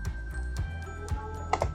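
Computer keys are tapped close by for a keyboard shortcut, a few separate clicks with a short double press near the end, over a steady electronic hum.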